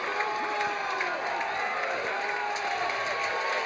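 Texas softball crowd at an NCAA super regional cheering and applauding, a continuous broad roar of many voices filling the stadium for a few seconds, with a commentator talking over it.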